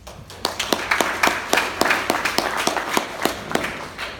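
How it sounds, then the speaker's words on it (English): Audience at a Toastmasters training session clapping for a participant: a short burst of sparse, separate handclaps, about a dozen sharp slaps at a loose, uneven rhythm, moderately close in a room. "Give her an applause."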